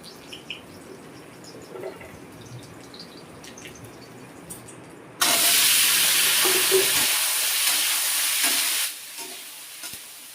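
Potatoes dropped into a hot pan for a vegetable dish with pointed gourd, a sudden loud sizzle bursting in midway and frying steadily for several seconds before dropping back to quiet kitchen background.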